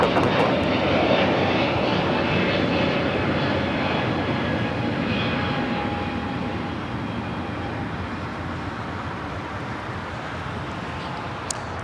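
A British Airways jet arrived from London Heathrow, taxiing at Los Angeles LAX toward the Tom Bradley gates: a loud, steady engine roar with a faint whine, slowly easing off as it rolls along.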